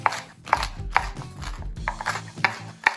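Knife chopping vegetables, likely onions and red bell pepper for Argentine Salteña empanadas, on a board: sharp, evenly spaced cuts at roughly half-second intervals, close and distinct, with no talk.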